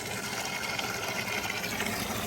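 Water gushing steadily into a livestock water trough for longhorn cattle, a continuous, fairly loud rushing pour with no talking.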